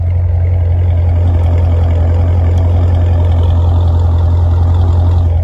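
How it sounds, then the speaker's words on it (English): A 2019 Scat Pack sports car's exhaust idles in a loud, steady low rumble, continuously and close up, with no change in pitch or rhythm. "let me put it closer so you guys can hear how it's just idling"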